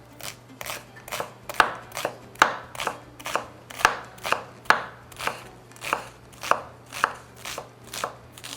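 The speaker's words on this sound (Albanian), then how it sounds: "Qepën e presim shumë holl, që mos të kuptohet kur të skuqet" A knife finely chopping onion on a board for cooking, steady rhythmic cuts about two per second, crisp and close, with no talking.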